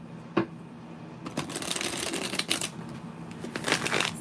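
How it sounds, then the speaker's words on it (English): A deck of tarot cards being shuffled up close, a sharp riffle followed by a sustained run of fluttering, slapping card sounds with no voices over it. "Let me shuffle this deck good because I haven't used this deck"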